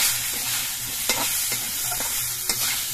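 Cucumbers stirred into frying spices and cumin powder in a pan give a loud, constant sizzle broken by a few sharp scrapes of the spoon. Heard up close, with no speech.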